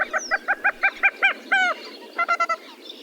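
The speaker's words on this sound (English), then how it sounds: "the vocalizations of the common gallinule are very similar to those of the American coot." Common gallinule calling from a marsh: a quick run of about eight loud, nasal, clucking notes, then a drawn-out squawk and a shorter burst of chattering clucks, near and alone.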